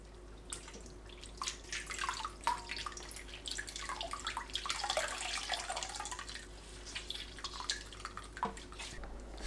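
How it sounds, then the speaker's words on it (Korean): Pumpkin leaves rinsed under cold running water, with a steady broadband splash and patter of the stream, small drips and sloshes on top throughout, fairly close and moderately quiet, no talking. "(5분) 후 찬물에 헹굽니다."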